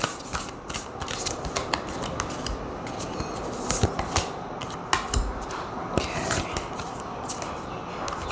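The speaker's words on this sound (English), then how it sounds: "Let's get another oracle card here." Oracle cards are shuffled by hand with continuous papery riffling and slapping, close and fairly loud, full of quick crisp flicks.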